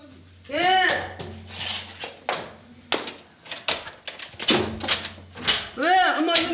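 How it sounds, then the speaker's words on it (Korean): Urgent knocking on a lodging door late at night: several sharp raps in irregular bursts, mixed with speech and other loud broadcast sounds. "늦은 밤 숙소를 울리는 다급한 노크 소리"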